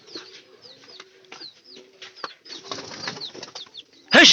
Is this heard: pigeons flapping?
yes